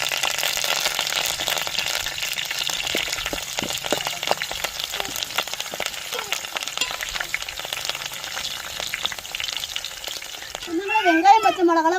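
Chopped onions, three green chillies and curry leaves frying and being stirred in a pan for a fish curry, a steady close sizzle with stirring scrapes throughout and a brief louder burst near the end.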